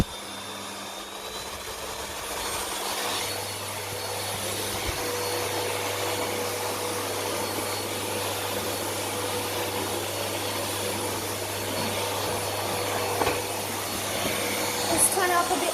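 A Bosch GL20 vacuum cleaner runs steadily with a loud, continuous motor whine and hum as its power setting is raised, the drone holding for the whole stretch.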